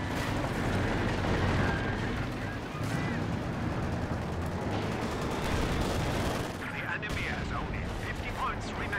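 Artillery shots and explosions in a WWII strategy video game rumble in a dense, continuous barrage of booms and gunfire, heard under an excited commentator's voice.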